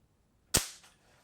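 A single sharp shot from an S&T ARES DSR-1 airsoft bolt-action rifle, a crisp close snap that fades quickly, with a faint secondary tick just after and quiet before and after.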